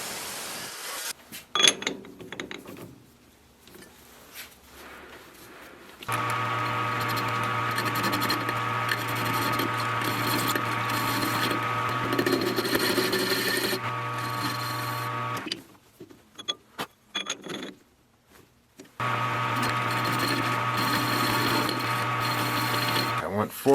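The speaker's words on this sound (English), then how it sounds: "So let's turn something on the lathe so that I can install that without screwing it up." Metal lathe turning a part for the track adjuster of a Case 170B excavator: a steady motor hum with cutting noise runs in two long stretches, separated by quieter pauses with light handling sounds.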